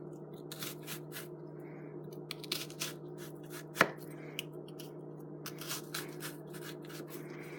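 A knife dices an onion in a quick run of soft close chops and cuts, with one sharper knock partway through, over a low steady background hum.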